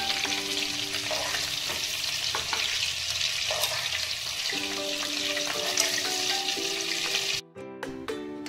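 Prawns sizzle steadily and loudly in hot oil for Bengali daab chingri, prawns cooked in tender coconut, with an unbroken frying hiss that drops away briefly near the end.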